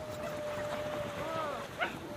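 Sled dogs on a Jura trail whimper and give a thin whining call, then a short sharp yip near the end, with a low outdoor murmur around them.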